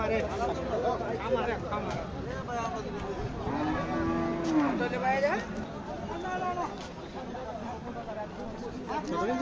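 Cattle low at a busy livestock market in Bangladesh, with several long, drawn-out moos rising over a steady babble of people talking and milling about nearby.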